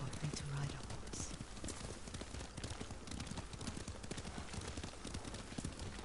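Horse hooves clip-clop at a steady riding pace in the samurai video game Ghost of Tsushima, a continuous rhythmic patter running beneath conversation between characters.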